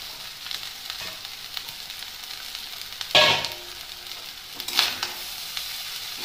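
Cooked rice being stirred and fried in a pan in a Bengali home kitchen, a steady low sizzle broken by two short, sharp scrapes of the spatula, with no talking.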